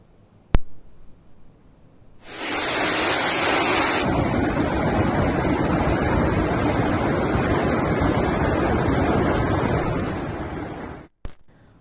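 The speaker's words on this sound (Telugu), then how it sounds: "నార్లపూర్లో మోటార్ల ద్వారా నీటి ఎత్తిపోత మొదలైంది." Water gushing from pump house motors at the Narlapur lift irrigation pump house, a loud, steady roaring rush that starts abruptly and holds constant for several seconds before cutting off.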